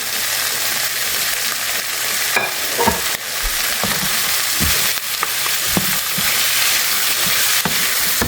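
Chicken fries with onion and garlic in a loud, continuous sizzle up close, with clinks and scrapes from stirring scattered throughout.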